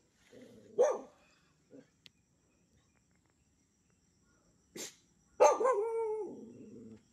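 Several dog barks on a farm lot with rambutan trees: a short burst early on, then two louder barks near the end, the last one drawn out, with insects chirping faintly.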